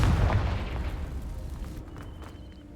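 In Hogwarts Legacy, a Confringo fire spell bursts against dry vines: one heavy, booming explosion up front that rolls off into a crackling, fading rumble over a couple of seconds.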